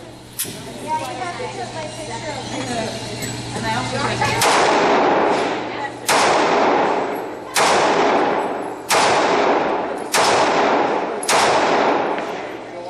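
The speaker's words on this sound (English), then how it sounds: "We're going to shoot the Sig with the 9mm rounds." Six sharp 9mm shots from a Sig P938 pistol, fired at roughly one-and-a-half-second intervals, loud and close, each followed by a short echoing decay.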